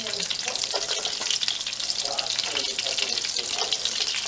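Garlic dropped into melted butter fries with a loud, continuous crackling sizzle up close, with light stirring underneath.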